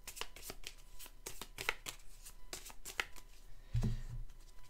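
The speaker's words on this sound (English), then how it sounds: "I'm going to shuffle them up." Face-down trading card packs are shuffled by hand in quick, crisp riffling bursts at close range, ending with a dull thump as they are set down.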